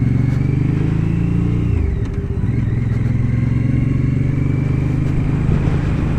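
A 1-litre V-Twin MBP C1002V motorcycle pulls away in first gear with a loud, close engine drone, a short dip in pitch as the gear engages, then a steady throbbing rumble.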